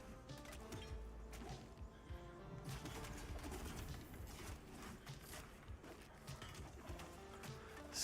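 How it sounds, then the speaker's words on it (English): Caged pet bird waking up indoors in the dark, soft low coos amid faint rustling and clicks, quiet and close with no talking. "Bird's waking up."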